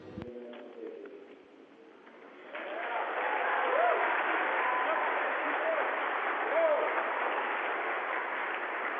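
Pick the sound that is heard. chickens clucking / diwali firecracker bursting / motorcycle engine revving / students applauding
students applauding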